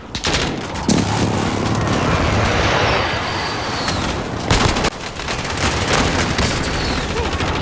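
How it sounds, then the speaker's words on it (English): Heavy gunfire and booming explosions fill a video game battle as a friendly precision airstrike comes in, dense rattling bursts and thuds at close, loud range with brief lulls. "Be advised, friendly precision airstrike inbound."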